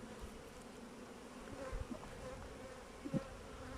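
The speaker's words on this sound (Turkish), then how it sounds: "Hatta çıkıyor arılar" Faint, steady buzzing of many honeybees at a hive close by, a soft droning hum with a few louder passes near the microphone.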